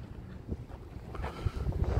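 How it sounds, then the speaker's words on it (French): Steady wind rushing and buffeting the microphone at the seaside, with a low rumbling roar and no voices. "il va sûrement y avoir du vent"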